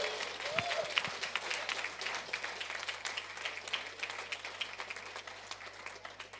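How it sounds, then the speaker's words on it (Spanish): A church congregation applauds throughout, dense and steady clapping at moderate volume, with a brief vocal shout near the start. "Deme un aplauso al vencedor."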